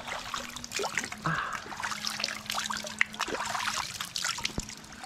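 A fresh, clear forest stream trickles steadily at moderate level, its soft, continuous babble of water running through the whole stretch without pause.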